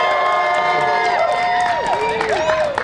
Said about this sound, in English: why don't we give them a cheer?